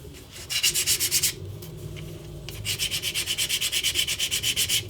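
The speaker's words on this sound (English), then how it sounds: "I can clean it up, you know it, by hand with a hand sander." Hand sander rubbing across prop claw blades for a Wolverine cosplay, smoothing them flat in two bursts of quick, even back-and-forth strokes, close and steady with a brief pause between.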